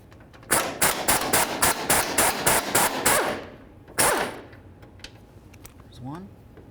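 A rapid burst of about ten ratcheting or impact-wrench hits while removing nuts and bolts from the fuel tank frame of a 1994-2004 Chevy S-10, followed by a single longer burst, loud and close.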